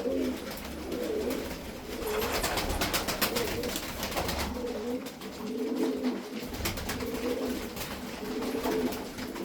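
Sütbeyaz pigeons coo repeatedly in rhythmic, low, moderately close calls while pecking at feed, with faint background rustling and no talking.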